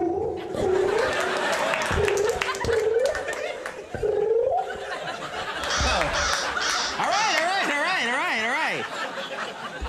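A raven's rough, croaking caws repeat in a series, standing in as a sound effect for a pigeon on a late-night comedy show, with laughter and chatter mixed around them.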